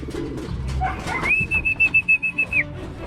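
Pigeons coo and flutter nearby while a sustained whistle rings out with rhythmic pulsing, background rustling throughout.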